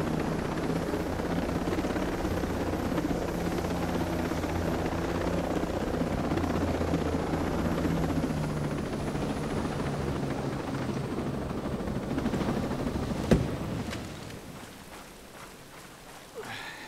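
A helicopter in the video game Ghost Recon Breakpoint comes in to land in an open area, its steady rotor thrum loud and continuous before a brief thump and a fade as the engine winds down.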